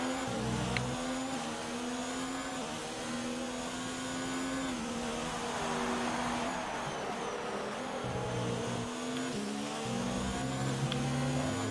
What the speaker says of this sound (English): the cars sound so nice in the tunnels